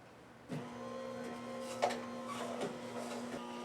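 An electric juicer runs with apples fed through it, a steady motor whine with a clear tonal hum and brief grinding surges as pieces go in, fairly quiet and close, no talking.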